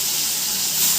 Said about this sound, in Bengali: জ্যান্ত মাছকে আমি ভেজে নেব।